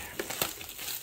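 Plastic wrapper of Magic: The Gathering Double Masters trading card packs crinkling as they are opened, a short burst of close, papery rustles and a small tearing snap.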